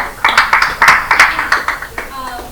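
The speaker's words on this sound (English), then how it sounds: "Big round of applause." A presentation audience gives a short burst of clapping, roughly a dozen distinct, closely spaced hand claps, loud and near, fading out in the final half second.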